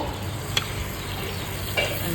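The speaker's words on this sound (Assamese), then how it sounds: "যেতিয়ালৈকে মাংসৰ তেলখিনি নোলায় তেতিয়ালৈকে মই অলপ দেৰি ভাজি ল'ম" Pork sizzles in hot oil in a pan while its fat renders out, a steady close frying hiss with a couple of sharp stirring clicks.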